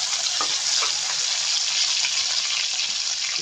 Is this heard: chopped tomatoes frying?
yes